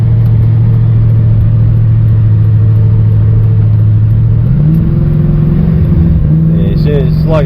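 Engine of an LS-swapped Holden HZ struggling with low fuel pressure: a steady low drone that rises in pitch about two-thirds through as the revs climb, then wavers and stumbles near the end.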